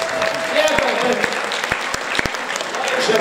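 Dense applause from an audience welcoming performers at an outdoor market show, steady and close, filling the whole moment with no voices on top.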